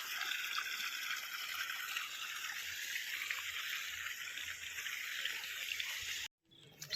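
Irrigation water flows steadily across a farm field, a continuous close rushing hiss that holds even and then cuts off abruptly just before the end.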